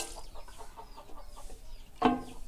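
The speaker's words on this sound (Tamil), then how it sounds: "இங்கே ஒரு கோழி இருக்குது." A single native country chicken clucks once, a short loud burst near the end, after quiet background murmur with faint bird chirps in a village.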